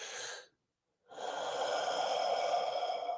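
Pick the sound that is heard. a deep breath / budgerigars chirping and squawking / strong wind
a deep breath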